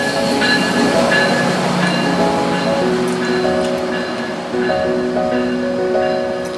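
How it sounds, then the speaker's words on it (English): A GO commuter train passes close by with a loud, continuous rumble, clattering wheels and metallic squeals, running steadily throughout. "There's a go train."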